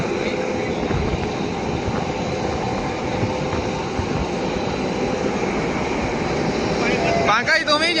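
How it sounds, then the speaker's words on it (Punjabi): Steady rumbling roar of a train rolling into a station in Constanța, Romania, continuous and fairly loud, with a squealing, clattering burst near the end. "ਸਾਡੀ ਟ੍ਰੇਨ ਆ ਗਈ ਹੈ"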